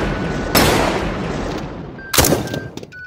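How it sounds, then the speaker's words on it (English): Old-fashioned American guns firing in an animated show: two loud, sharp shots about a second and a half apart, each trailing off, the second followed by smaller clattering hits. "Old-fashioned American guns. They're shooting! They're shooting!"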